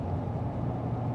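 Steady low road rumble from inside the cab of a 2014 Chevy Silverado pickup cruising at 55 mph, a dense, even drone with no voices.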